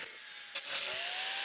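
Doors being cut off the body of a mini lorry: a steady, close rasping cut with a rising whine running through, brief and without any talk.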